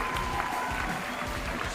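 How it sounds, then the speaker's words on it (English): Crowd cheering and applause in the Cities: Skylines city-building game, a short burst of steady clapping and crowd roar, fairly loud and unbroken. "I love the cheering."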